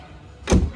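Door of a 2017 Maruti Baleno Delta car shutting once, a single solid thud midway after quiet ambience, close and fairly loud.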